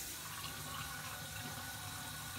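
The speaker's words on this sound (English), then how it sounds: "You're going to turn your water on." Water runs steadily from a newly installed Pfister single-handle bathroom faucet into the sink, a continuous close hiss and splash with no talking.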